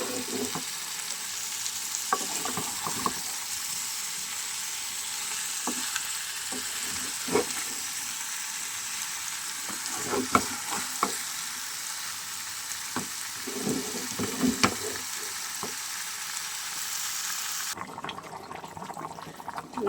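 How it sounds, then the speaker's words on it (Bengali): Egg and potato curry sizzles and fries in a pan with intermittent stirring clicks, a steady close hiss throughout, no talking. "এবার আমি আর একটু কষিয়ে নেবো।"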